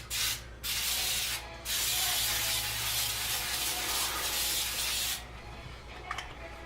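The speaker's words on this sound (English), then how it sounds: "a baking spray" A can of baking spray gives two long, steady hissing bursts as it coats a baking surface for vegan gingerbread, close and loud. A short gap separates the bursts, and no one speaks.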